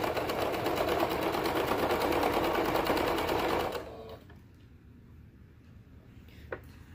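A sewing machine top stitching a toddler hoodie runs steadily and loudly for several seconds, then stops abruptly, leaving faint room noise and a small click.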